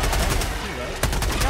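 Rapid gunfire in Helldivers 2 during a chaotic bug fight against giant scorpions, a dense continuous burst of automatic shots with a sharper crack about two-thirds through, loud and close, with some voice mixed in.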